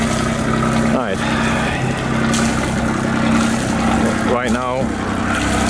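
A Beta Marine 28 marine diesel engine, installed in an Alberg 37 sailboat and running with no exhaust system fitted, drones loudly and steadily up close while someone talks over it.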